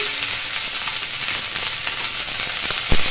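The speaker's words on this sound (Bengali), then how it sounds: "এবার সজনে ফুলটা দিয়ে দিচ্ছি।" Drumstick flowers sizzle in hot oil in a frying pan with potatoes and onions, producing a continuous close hiss and crackle with light stirring taps and a sharp knock near the end.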